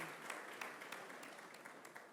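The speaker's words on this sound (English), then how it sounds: "I think we can give Her Excellency and the government of Ethiopia a round of applause." Delegates at an African Union high-level roundtable on malnutrition give a brief round of applause, faint and distant, with scattered individual claps in a soft continuous patter.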